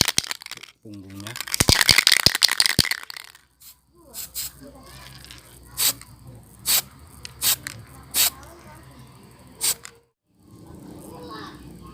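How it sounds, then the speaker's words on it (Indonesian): Green aerosol spray paint from a can hisses onto a frog fishing lure in short bursts, preceded by rattling of the can and a longer spray, with someone talking between bursts. "langsung saja pakai cat semprot biasa, kaleng"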